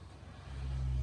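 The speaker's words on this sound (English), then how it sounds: "slow car going by" A stock car in the NASCAR 14 racing game drives past with a steady low engine drone that swells louder through the second half, rumbling on its own.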